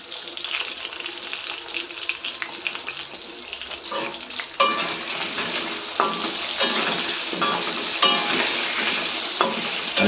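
New potatoes frying in mustard oil give a continuous sizzle that grows louder and denser midway, broken by intermittent stirring clatter and sharp utensil hits against the pan.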